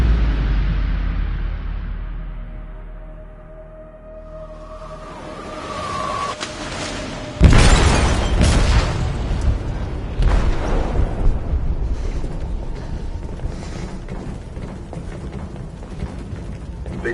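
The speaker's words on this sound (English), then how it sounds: "They detonated an explosive in the hold" A heavy blast tears through a ship's hold in Detroit: Become Human, a sudden loud boom rising from low rumble into a roaring, crackling wash of debris and rumbling that persists for several seconds.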